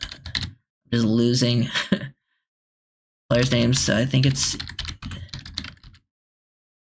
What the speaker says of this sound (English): Let me start typing some of these names down here